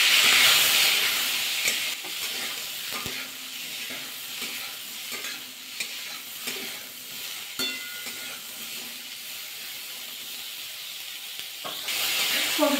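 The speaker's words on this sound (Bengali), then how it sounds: "কপিটা নাড়াচাড়া করে ভাজা করে দিয়েছি" Cauliflower pieces fry in hot oil with salt and turmeric, giving a loud, steady hissing sizzle broken by scattered scrapes and clinks of stirring, louder at the start and end.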